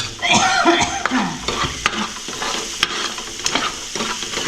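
Spinach being sautéed and stirred in a pan, with a loud close sizzle, repeated spatula scrapes and clatters, and a few sharp knocks against the pan.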